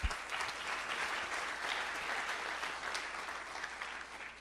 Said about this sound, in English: I give them a round of applause as well